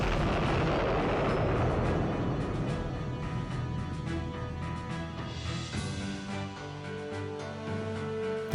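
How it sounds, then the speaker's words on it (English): A chemical weapons plant explodes and burns in the naval strategy game Fleet Command, heard as a loud, sustained rumbling roar that slowly settles into a lower, steadier burning drone. "The chemical weapons plant burns fiercely, destroying the weapons without affecting the nearby civilian infrastructure."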